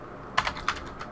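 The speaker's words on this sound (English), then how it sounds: "let's just type it out" A few quick keystrokes on a computer keyboard, three or four close, crisp clicks in about a second over a faint room hum.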